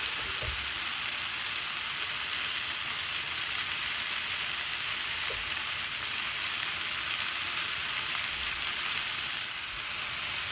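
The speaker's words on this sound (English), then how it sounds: "leave it in this pan just the way it is without pressing it for at least 10 minutes or so until the bottom is nice and crispy" Grated potato rosti frying undisturbed in a pan, giving a steady, even sizzle and crackle that holds loud and close throughout with no voices.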